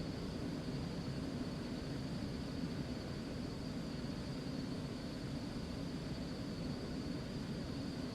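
Steady jet engine drone of a Cessna Citation Mustang business jet cruising at altitude in the X-Plane flight simulator, a continuous broadband rumble with a faint high whine, unbroken throughout with no talk.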